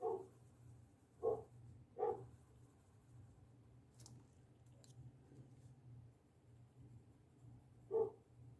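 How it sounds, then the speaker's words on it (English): A dog gives a few short, muffled barks, three close together at the start and one more later, fairly faint against a quiet indoor room hum. "He's hearing another dog barking."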